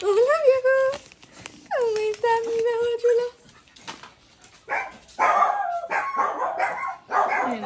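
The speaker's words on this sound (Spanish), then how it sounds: "Miren, ahí están los perritos que les decía yo." Several dogs howling and barking in bursts, with long drawn-out wavering howls followed by rougher choppy barks, fairly close and loud, while people talk nearby.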